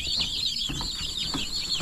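A flock of 45-day-old broiler chickens clucks and chirps continuously at close range, a busy overlapping chorus of high calls with no voices.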